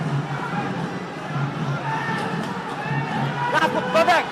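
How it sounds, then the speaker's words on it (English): A schools rugby crowd cheers Zahira College on against S. Thomas' College, a steady, moderately loud swell of voices with a commentator talking over it and a brief burst of louder shouts near the end. "The crowd urging them on."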